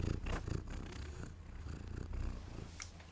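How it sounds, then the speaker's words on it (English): A cat purrs close by in a soft, steady, rhythmic rumble, quiet and uninterrupted, with no talking over it. "Are you getting some cat ASMR right now?"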